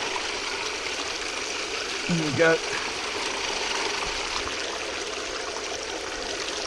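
Water runs over a gold sluice mat in a steady, broad hiss, as a voice briefly speaks over it early on.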